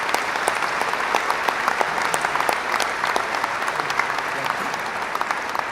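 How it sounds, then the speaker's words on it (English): Applause fills a San Juan High School facility hosting a Senate committee field hearing, a room of people clapping steadily with sharp individual claps standing out across the whole stretch. "Let's give them a round of applause."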